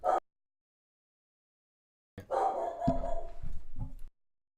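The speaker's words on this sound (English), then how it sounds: "there's our doggy girl with the barks" A female dog barks in a short, fairly close burst, followed by a pause and then a longer run of rough barking with a whimpering quality, all fairly quiet.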